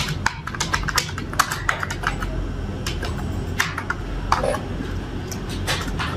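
Someone types a name on a computer keyboard with a rapid, uneven patter of close keystrokes over a steady low background hum, with no talking.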